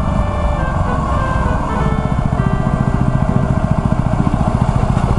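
Yamaha WR250R dual-sport motorcycle engine running steadily while riding, a continuous near, loud droning rumble with wind noise throughout.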